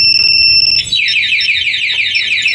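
A motorcycle anti-theft alarm sounds up close, starting with a steady high tone and then switching to a loud, rapid warbling siren.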